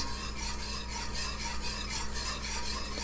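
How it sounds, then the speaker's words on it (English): A whisk scrapes and stirs roux rapidly against the bottom of a pot in a steady rhythmic rasp, close and continuous. "I know a number of you don't like the whisk sound"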